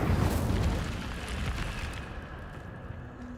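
Incendio fire spell cast in the video game Hogwarts Legacy, a loud roaring burst of flame that starts strong, rumbles and crackles for a couple of seconds, then fades into a quieter ambient tail.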